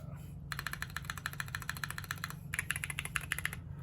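Typing on a Keychron Q1 keyboard fitted with Glorious Panda tactile switches, a steady run of fairly loud, crisp keystrokes in an even rhythm, close up with no talking.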